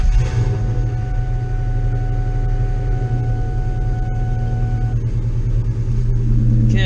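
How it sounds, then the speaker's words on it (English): Car engine idling just after being switched on, a steady low rumble with a faint whine, close and continuous with no talking. "Let me turn the vehicle on so I can get the gauges going."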